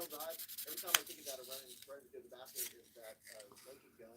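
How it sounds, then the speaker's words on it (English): Rhythmic rubbing strokes of sanding knife bolsters, a steady back-and-forth scrape close up, with a brief sharp click partway through. "Do a little sanding on these bolsters."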